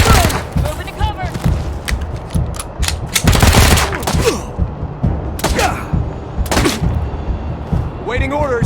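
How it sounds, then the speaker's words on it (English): Repeated gunfire in Wasteland 3 cracks out in bursts and single shots, loud and close, over a busy backdrop of combat thuds and game voices calling out. "Taking the shot!"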